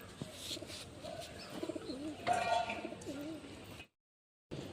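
Black-bodied pigeons coo in low, wavering calls, close and moderately loud, with a few overlapping coos before the sound briefly cuts to silence near the end.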